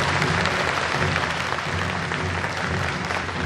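Dense, steady applause from a large audience at the Waterworld stunt show at Universal Studios Japan, sustained loudly and evenly throughout with no pause.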